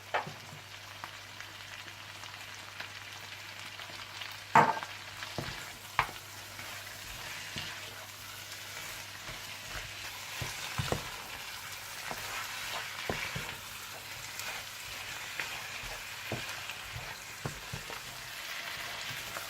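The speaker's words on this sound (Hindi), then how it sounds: "जब चाप्स मसाले में अच्छी तरह से मिक्स हो जाएं और भुन जाएं" Lamb chops sizzle in karahi masala as they are stirred, a steady low crackle of frying broken by occasional sharp clinks of the spoon against the pan.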